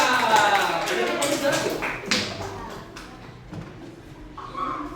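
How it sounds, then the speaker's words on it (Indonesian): A classroom of children applauds the air group, a burst of scattered, overlapping claps that is busiest at the start and thins out toward the end, with children's voices chattering beneath and a teacher speaking. "Oke, tepuk tangan buat kelompok udara."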